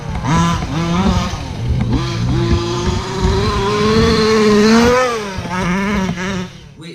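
A 30 Degree North BWS 5B petrol buggy engine with a tuned pipe revs hard and loud nearby, its pitch rising and falling in strained, buzzing sweeps that swell toward a peak before dropping away at the end.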